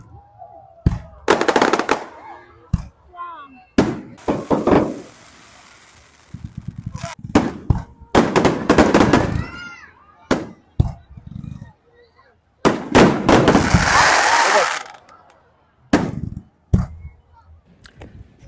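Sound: fireworks exploding

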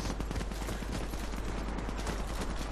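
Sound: machine gun fire in video game Warface

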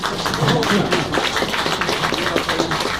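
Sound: audience applause

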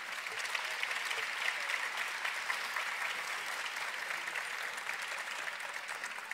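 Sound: audience applause for María Guadalupe at graduation

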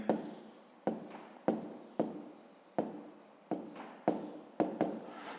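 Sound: writing in a notebook

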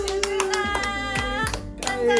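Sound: hand clapping at birthday celebration

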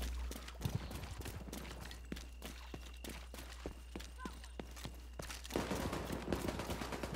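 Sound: gunshots from video game The Division 2

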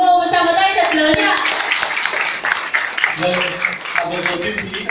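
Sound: applause

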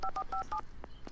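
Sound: telephone dialing in the video game Alan Wake

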